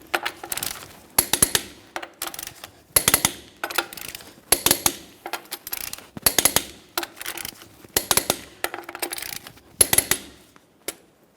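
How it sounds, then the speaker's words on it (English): Torque wrench tightening 21mm lug nuts on a Ford F-150 wheel, sharp repeated clicking bursts in regular groups, close and crisp with quiet pauses between each nut. "let's torque each one of our 21mm lug nuts to 150 foot-pounds in a crisscross manner"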